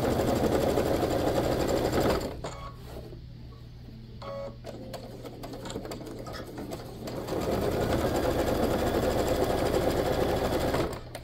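A sewing machine stitching close to the edges of a bag pocket gives a fast, steady mechanical whir that pauses briefly in the middle with small clicks, then resumes at full speed.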